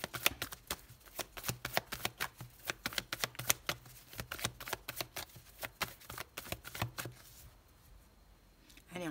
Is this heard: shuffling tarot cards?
yes